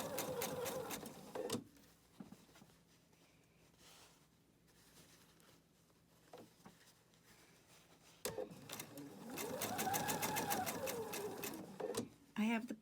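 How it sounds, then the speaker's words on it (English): A sewing machine stitches a fabric seam in bursts, with rapid close mechanical whirring at the start and again after a quiet pause, and a person talks softly in between. "I'm going to go ahead and stitch along that section, holding my threads behind, and I'm just going to stitch along there."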